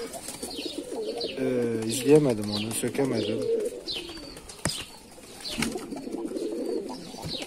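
Mardin pigeons coo in deep, rolling bursts close by, with someone talking over them and brief wing flaps and chirps mixed in.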